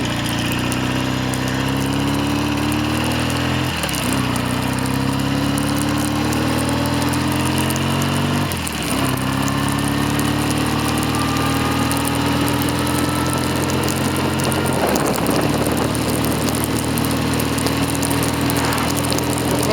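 A BSA A10 Super Rocket motorcycle engine runs on a snowy road with a loud, continuous drone. The pitch rises through each gear and drops sharply at several gear changes, and no one speaks.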